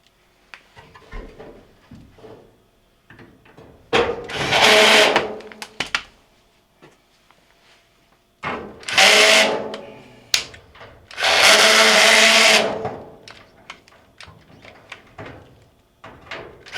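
Power tool driving 5/16 bolts into a Maytag dryer during a blower wheel repair, several loud close whirring bursts of a few seconds each, separated by quieter clanks and handling noises.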